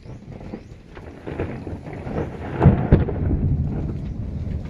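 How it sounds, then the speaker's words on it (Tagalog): Loud thunder rolls and cracks over steady rain during a rainstorm in farm country, booming nearer and heavier toward the middle with a continuous wash of rainfall underneath. "Kasi sobrang lakas ng kulog at kidlat"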